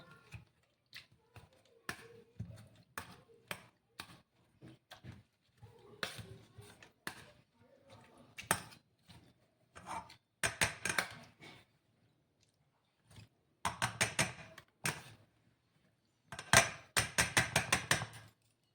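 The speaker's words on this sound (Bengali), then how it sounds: "যেহেতু টমেটোটা খুব গরম, সেই জন্য আমি একটা ম্যাশারের হেল্প করে এটাকে চটকে নেব" Hot roasted tomatoes being mashed with a masher for a Bihari-style chutney, giving bursts of soft squishing thuds and taps in uneven clusters, fairly close and quiet.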